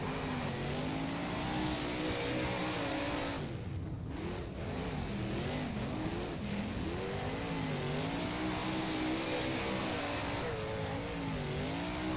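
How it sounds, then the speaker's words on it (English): Several 410 sprint car engines race at Ohsweken Speedway in rFactor, a loud, continuous buzzing roar whose pitch rises and falls as the cars rev through the corners, with no talk. "here we go, 30 laps from Ohsweken Speedway, 410 Sprint Cars"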